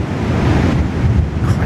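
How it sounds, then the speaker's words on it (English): Sea waves crash and roll steadily onto St. Clair Beach in Dunedin, New Zealand, a continuous loud surf roar with wind buffeting the microphone and no voices. "You can hear the sea"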